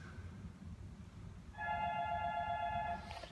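A telephone rings once partway through, a clear electronic trill over faint room noise, the ring starting abruptly and cutting off near the end.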